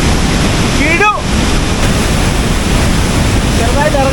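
Mahilekhya Waterfalls in Tamil Nadu roars as a loud, steady broadband rush of falling water, continuous for the whole stretch, with brief whistle-like chirps rising over it near the start.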